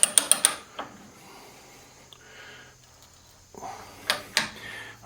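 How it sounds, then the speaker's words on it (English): A ratchet pipe threader cutting threads onto black iron pipe at home: a quick run of sharp ratcheting clicks, then scattered creaks and clicks with a few louder clacks near the end, close by. "this works kind of like a ratchet, and you're just going to peel the threads right down through there"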